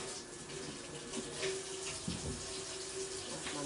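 A tap runs into a sink while a knife is rinsed, a soft steady stream of water with light splashing and a faint clink, fairly quiet.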